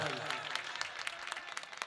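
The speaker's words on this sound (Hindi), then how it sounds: "एक बार तो जोरदार तालियां बजा दीजिए भाई" A mushaira audience in Rautahat on the India–Nepal border claps, heard as scattered claps over a low murmur of voices, rather faint and brief.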